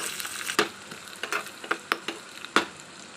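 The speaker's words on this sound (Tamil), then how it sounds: "நம்ம தேங்காவையும் சின்ன சின்ன பீஸாக கட் பண்ணி அதையும் நல்லா வறுத்து வச்சுக்கலாம்" Small coconut pieces frying in a pan at home, giving a soft steady sizzle broken by several sharp crackles and pops at uneven moments, close and moderately quiet.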